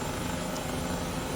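Airbus H135 helicopter in Microsoft Flight Simulator 2020, a steady whining turbine and rotor drone held at an even level, with no speech.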